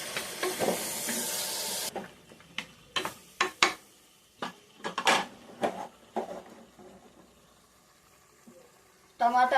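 Mutton trotter paya curry with blended tomato being stirred in a pan: a short sizzle, then a string of separate scraping and clattering spoon strokes with quiet gaps between them, and a sizzle again at the end.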